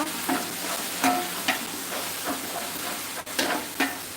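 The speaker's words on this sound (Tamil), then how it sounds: "வெங்காயம் தக்காளி வெந்தயம் பூண்டு ஜீரகம் எல்லாம் போட்டிருக்காங்க போட்டு வதக்கிட்டு இருக்காங்க" Onion, tomato, fenugreek, garlic and cumin stirred in a hot pan as the base for a home-cooked fish curry, with a steady close sizzle broken by several scraping stirs, no voices.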